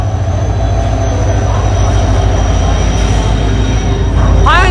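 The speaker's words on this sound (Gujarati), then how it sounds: "ફાઇનલી ટ્રેન આવી ગઈ છે." A train arriving at a station rumbles loudly and continuously close by, a heavy low drone with faint steady tones above it and a short rising squeal of wheels near the end.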